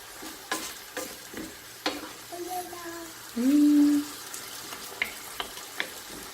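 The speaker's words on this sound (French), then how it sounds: "je vais laisser mijoter pendant 10 minutes" Smoked meat simmers with red beans in a pot, producing a soft continuous sizzle and bubbling. Intermittent stirring clicks and scrapes sit on top, with a brief tonal whine partway through.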